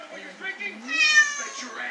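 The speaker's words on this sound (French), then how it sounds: "il y a mon chat qui miaule" House cat meowing close by, a few drawn-out rising and falling cries across two seconds, clear and fairly loud.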